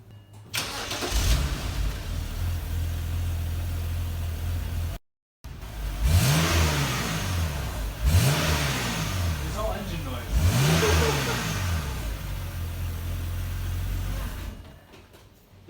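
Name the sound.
BMW car engine running with exhaust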